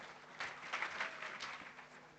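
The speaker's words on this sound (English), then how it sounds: "Another round of applause, ladies and gentlemen." Audience applause at the State of Internet Freedom in Africa 2025 launch event, a soft, steady patter of clapping from a distant crowd, fairly faint and continuous without talk.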